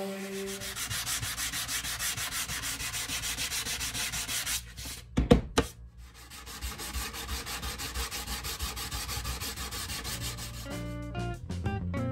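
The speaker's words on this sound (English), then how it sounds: "First step is to do the final sanding" Steady, continuous sanding of an ash wood travel guitar, a rough rhythmic rubbing that runs throughout, briefly interrupted by a couple of sharp knocks midway before the scraping resumes.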